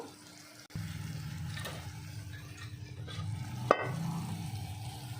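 Horse gram soup simmering in a pot, a soft bubbling and gentle churning close by, steady and fairly faint with a couple of small clinks, no talk.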